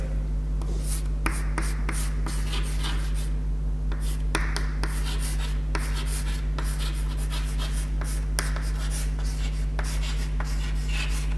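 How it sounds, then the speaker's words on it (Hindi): Chalk or marker scratches and taps steadily across a board during a history lecture on Mughal-era Fatehpur Sikri, a continuous close writing sound over a steady low electrical hum, with no talking. "खैर मैंने एक नाम लिख दिया है"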